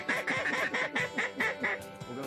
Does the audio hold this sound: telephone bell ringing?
no